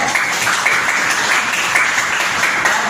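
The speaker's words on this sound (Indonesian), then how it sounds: "Tepuk tangan untuk kita semua." Students in a classroom applaud together, a continuous, fairly loud patter of many hands clapping at a steady level, without voices standing out.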